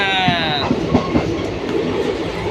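A moving Prayagraj express train rumbles with rhythmic clickety-clack wheel beats, loud and close from inside the carriage, with a fading tonal whine at the start.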